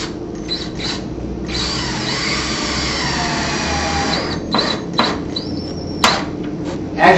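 A power drill spins a trim head screw into a pre-drilled hole while installing a shutter, giving a steady close whir for a few seconds, followed by several short tool bursts and clicks.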